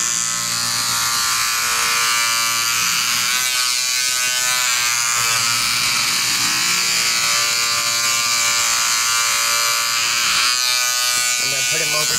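A brush robot toy running at full speed makes a loud, steady electric buzzing whine that holds throughout without a break, very close.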